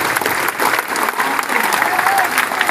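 Audience applause for the professors, principal and administration at a Karaikal Polytechnic college awareness event: dense, steady hand clapping from a large crowd throughout, loud and close with no break.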